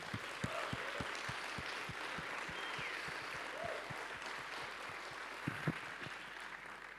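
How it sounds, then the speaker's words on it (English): Applause from a conference audience for the volunteers and organizers at Bitcoin Atlantis, heard as a fairly faint, steady clapping texture with scattered sharper claps, a bit distant in a large room. "should we just do another round of applause to all the volunteers, organizers, and everyone?"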